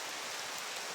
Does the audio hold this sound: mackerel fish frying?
no